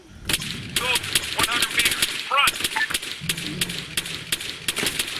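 Rifle fire in the video game Arma 3 cracks out in rapid, irregular bursts of sharp shots, fairly close and loud, with a voice briefly speaking between them.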